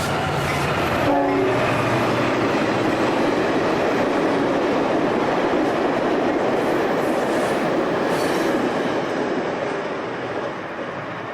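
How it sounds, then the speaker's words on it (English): Amtrak's eastbound Capital Limited, a passenger train of Superliner cars, rushes past near Oak Harbor with a brief horn blast, then a loud, continuous roar and clatter of wheels on rails that eases slightly near the end. "Amtrak's eastbound Capital Limited is next, recently equipped with superliners."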